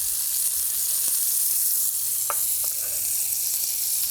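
Butter sizzles steadily in a hot pan beside a ribeye steak, a constant close frying hiss with a few sharp pops and spatters standing out near the middle.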